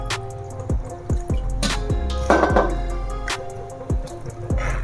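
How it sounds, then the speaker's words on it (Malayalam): A water mixture is poured into a pot of mango pulissery made with country mangoes, giving a run of separate drips and splashes with a brief gush in the middle, close and moderately loud. "വെള്ളം കൂടി ഇതിൽ ചാലിച്ച് ഇതുപോലെ ഒഴിക്കുകയാണ്"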